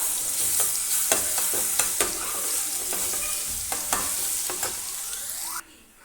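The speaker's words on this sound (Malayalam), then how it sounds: "ഇതിൻ്റെ പച്ചമണം മാറുന്നത് വരെ ഒന്ന് റോസ്റ്റ് ചെയ്ത് കൊടുക്കാം." Ginger garlic paste and fennel roast in hot coconut oil, giving a loud, steady sizzle broken by regular scraping stirs, before the sizzle drops away sharply at the end.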